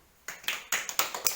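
A class of students claps their hands in a classroom, a quick run of about six sharp, close claps in an uneven rhythm, with no talk.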